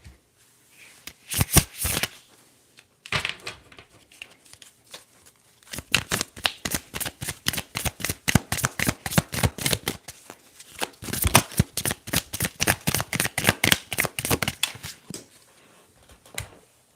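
Tarot cards shuffled in a close, quiet setting, with a short burst of riffles, a pause, then long runs of rapid crisp flutters and snaps in quick succession.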